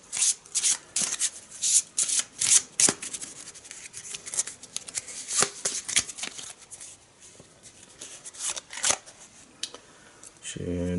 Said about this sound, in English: Here's the research encounter deck. Give it a quick shuffle.